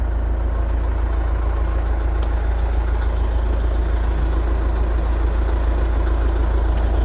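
An Austin Western 99H grader's engine runs steadily at idle, a loud, even low-pitched diesel rumble with a constant throb and no speech over it.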